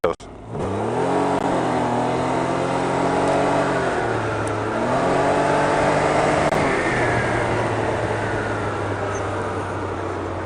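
A Can-Am Ryker 900 three-wheeler in sport mode accelerates hard, its engine revving up loudly through rising pitch sweeps and gear changes before settling into a steady high drone, close and alone.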